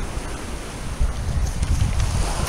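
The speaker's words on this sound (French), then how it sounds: "Il y a un petit peu de houle, ça fait des belles vagues." Small swell waves break on a surfable beach on Hoste Island. A continuous low rumble of surf rises and falls, with strong wind buffeting the microphone. No voices are heard.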